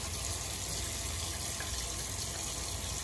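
Running tap water for a cold rinse after shaving with a 1953 Gillette President razor, a steady, close, loud rushing stream with no talk.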